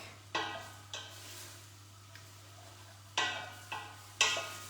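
Chilli in a pot is stirred in a few sharp, irregular scrapes and knocks against the pot, about five in all, over a low steady hum and faint sizzling.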